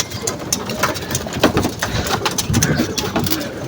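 Backyard pigeons coo in a dense, low, throbbing chorus nearby, with repeated rolling calls and some flapping and scuffling in between.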